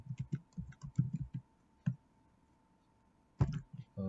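Computer keyboard keys tapped in short irregular bursts, close but fairly faint, with brief pauses between runs of clicks in a quiet room.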